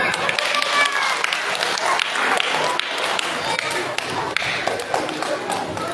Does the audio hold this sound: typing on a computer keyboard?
no